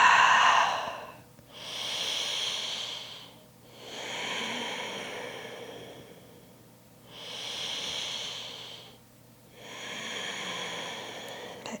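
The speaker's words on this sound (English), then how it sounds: "Still breathing deeply" Slow, deep breathing during a yoga flow, five long airy breaths close to the ear, each swelling and fading with quiet pauses between, no talk over them.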